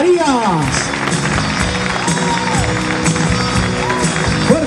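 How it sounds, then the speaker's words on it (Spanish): Applause from the crowd at a regional road-consortium festival pageant in Argentina, a loud, sustained wash of clapping with music and voices mixed underneath throughout. "Fuerte ese aplauso."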